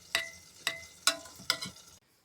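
A spoon scrapes around a saucepan of melting homemade soft cheese in four quick, evenly spaced strokes, close by, then stops.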